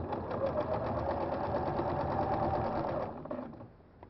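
Sewing machine fitted with a ruffler foot stitching a pillow, a steady close whirring run for about three seconds that slows and stops, followed by faint handling sounds.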